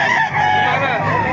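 A rooster crows at an outdoor chicken market in Baliuag, Bulacan, a single loud, close, drawn-out call lasting about a second, with other fowl and faint voices murmuring behind it.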